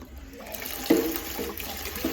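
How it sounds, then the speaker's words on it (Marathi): A small child splashes and plays with water at home, producing sloshing, pouring water sounds with a brief louder splash partway through and no talk. "ह्याला नुसतं पाण्यात खेळायला आवडतं"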